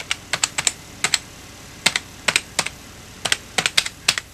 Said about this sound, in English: the typing feel is not mechanical, but it's better than most rubber dome keyboards are